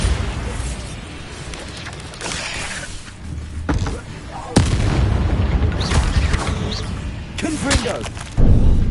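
Spell explosions in the Hogwarts Legacy video game during a duel: heavy booming blasts burst out twice, the second about four seconds after the first, over a low rumble of combat noise.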